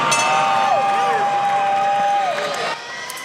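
A boxing crowd in San Antonio roars and cheers after a technical knockout, a dense, loud and sustained wall of voices with whistles and shouts that eases off near the end.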